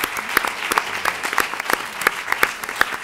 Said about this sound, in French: c'est le moment de nous applaudir et d'applaudir les panélistes